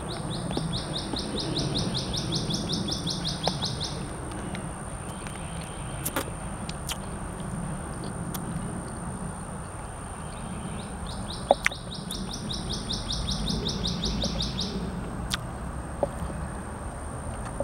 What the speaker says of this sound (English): Is that a red cardinal?